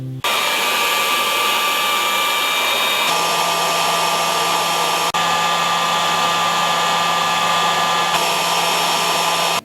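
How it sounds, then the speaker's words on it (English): Hair dryer blowing steadily on metal Oldhammer miniatures being converted into Chaos Space Marines, a loud continuous whooshing whine close by that holds for the whole stretch with slight shifts in pitch, no voices. "Let's see if the hairdryer speeds things up."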